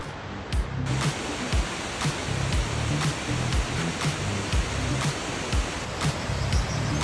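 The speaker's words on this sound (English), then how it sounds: "The first falls we explored was Shannon Falls." Shannon Falls in Canada pours in a constant broad rush of falling water, steady and fairly close, broken by brief sharp clicks and knocks at intervals.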